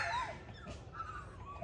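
A young puppy, the runt of a litter, gives a faint, thin whimper near the start, followed by quieter soft whines in a calm room with no talking.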